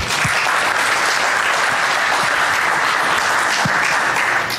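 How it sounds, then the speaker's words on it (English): An audience at a tech conference applauds a speaker, with dense, steady clapping filling the room and holding at an even level throughout. "Let's hear it for our speaker."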